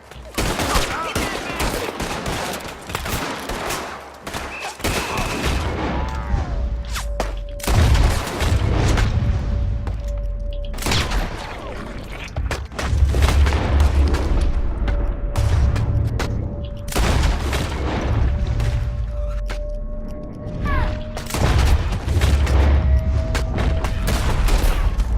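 Sustained gunfire in the Red Dead Redemption 2 video game, many loud shots crowding together in an unbroken fusillade with booming impacts, heard under occasional shouting voices.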